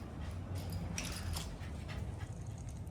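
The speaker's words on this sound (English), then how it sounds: "we've got just a random corgi that showed up." A corgi dog nearby, giving faint whimpers and panting sounds over a low background rumble, brief and fairly quiet.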